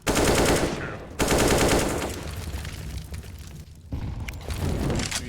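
AK rifle fire in a video game: loud, dense bursts of rapid automatic shots with brief gaps between volleys, close and harsh, no speech over it.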